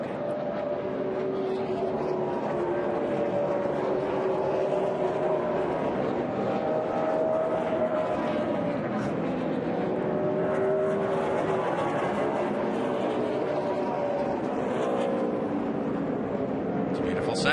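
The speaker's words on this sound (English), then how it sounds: "How about motors, engine sounds only, KP?" NASCAR Cup Series race cars roaring through practice at Bristol, a steady dense engine drone with rising and falling pitch sweeps as cars pass, continuous and loud with no talk over it.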